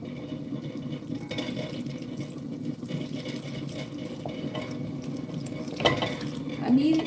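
Water being added to a pot of jasmine rice on the stove, a steady liquid pour with stirring and faint sizzle, close, ending with a brief squeak, no speech over it.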